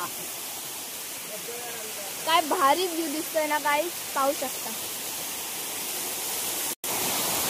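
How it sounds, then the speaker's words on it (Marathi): Steady rushing water roars continuously, like a nearby waterfall, while a person talks briefly over it. "वॉटरफॉल धबधबा"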